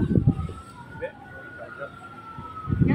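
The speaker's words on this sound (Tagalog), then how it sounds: "Oh, may mga fire truck nang dumating." Fire truck sirens arriving at a junkshop fire in a residential subdivision, a faint, steady wail rising and falling in the distance with voices talking close by at the start and end.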